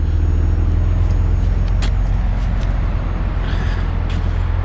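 A 1993 Mitsubishi 3000GT VR4 twin-turbo, all-wheel-drive, with the exhaust switched to sport mode through only the far muffler, holds a loud, steady, deep rumble close by with no talk.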